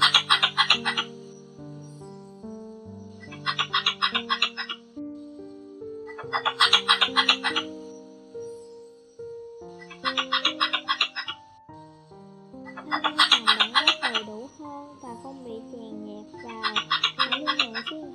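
Red-bellied squirrel flock calls used as a lure, sharp chattering bursts repeated in six evenly spaced rhythmic bouts over underlying tonal chirps, clear and close.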